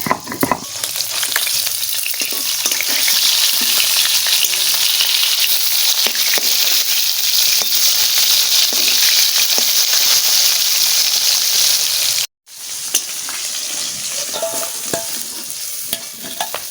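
Steady, loud sizzling of rohu fish frying in hot oil, a dense crackling hiss that runs continuously with a brief break near the end.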